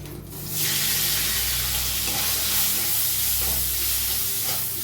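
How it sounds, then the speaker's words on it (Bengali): Prawn heads frying in hot oil give a steady, close sizzle and hiss throughout, with faint stirring scrapes and no talk. "প্রথমে মাথাটা একটু ভেজে তুলে নিচ্ছি"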